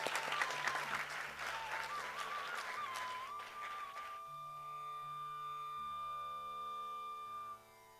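Applause from an audience at a celebration, a dense wash of clapping that fades out after about four seconds while soft music carries on.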